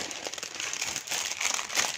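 A plastic freezer bag crinkles and rustles close up in irregular bursts while potato kofta is prepared in a home kitchen, with no talking.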